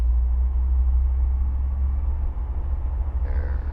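A Bristell light aircraft engine runs up to 4,000 RPM on the ground with the handbrake locked, a loud, steady droning rumble heard close and continuous.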